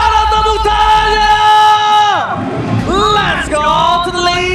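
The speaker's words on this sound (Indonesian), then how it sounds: "Mana tepuk tangannya?" Esports arena crowd at an MPL Indonesia Mobile Legends match cheering and whooping after a game win, with a loud excited caster shouting over the noise.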